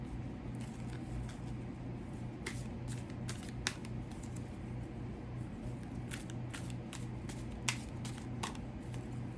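Tarot cards being shuffled and drawn from a deck, with soft papery riffles and a few sharper card snaps spread across the clip over a steady low background hum, no talking.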